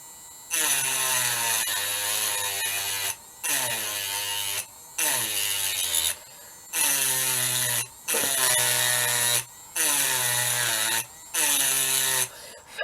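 Cheap handheld rotary tool buzzing in short high-pitched whining bursts of a second or two with brief pauses, its pitch sagging slightly as it bites into an eggshell.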